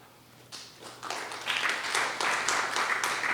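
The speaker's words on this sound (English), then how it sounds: "We should make applause to Puff for being amazing." Applause from a small group, starting with a few isolated claps and swelling into steady, moderate clapping that carries on to the end.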